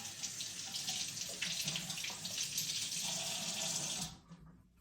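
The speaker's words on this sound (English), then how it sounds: "So I'm just gonna wash my hand off here." Water streams steadily from a tap over a hand being rinsed, a close, continuous splashing rush that cuts off abruptly near the end, leaving quiet.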